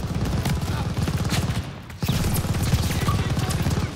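Rapid bursts of gunfire from the Call of Duty: Vanguard final campaign mission rattle in quick, steady rhythm, with a brief pause midway before the shooting resumes at moderate volume.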